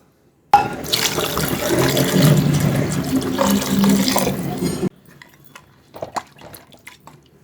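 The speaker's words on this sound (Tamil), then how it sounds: "நல்லா தண்ணி கொஞ்சம் நல்லா தாராளமாக ஊற்றணும் தண்ணியை" Water gushes steadily into a pot for crab curry for about four seconds, then stops, followed by a few light clinks and drips.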